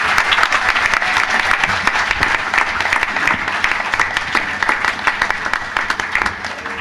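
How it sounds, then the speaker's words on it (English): Warm, steady applause from a concert audience honouring the musicians, a dense wash of many hands clapping close and continuous for several seconds, fading slightly at the end. "I think you all can give a louder round of applause for the musicians."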